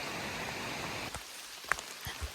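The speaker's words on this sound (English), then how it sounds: "And it's still raining" Rain falling on a wooded foothills hiking trail, a soft continuous patter and hiss with a few sharper drops and rustles, fairly faint and close.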